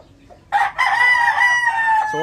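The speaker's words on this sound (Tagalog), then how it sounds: "Pero napakagaling, napakautak na manok." A round head gamefowl rooster with a straight comb crows once, loud and close. The call starts with a brief lead-in and then holds a bright, sustained cock-a-doodle-doo.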